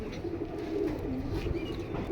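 Pigeons at a caged bird sale coo softly in low, throaty murmurs amid a busy, noisy background.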